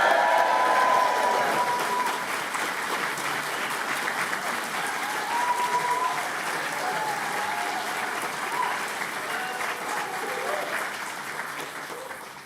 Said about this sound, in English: let's all give a big cheer for the graduating class of 2026